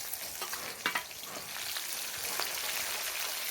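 Dried red chillies and shallots sauté in hot oil for a mixed vegetable rice dish, giving a dense, close, continuous sizzle with a couple of brief stirring knocks near the start.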